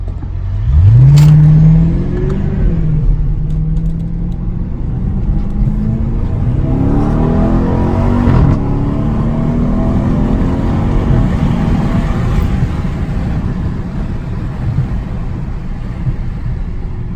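A Dodge Challenger Scat Pack Shaker with a 6.4-liter, 485-horsepower V8 revs up sharply and then accelerates hard, its deep engine note climbing through the gears in a loud, sustained roar with no talking.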